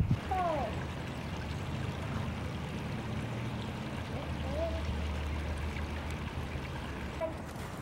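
A hiking-trail creek flows steadily, a continuous close gurgling rush of water that fills the whole stretch, with no talk over it.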